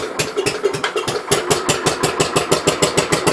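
A tractor engine cranks and catches, settling into a rapid, steady chugging idle close by.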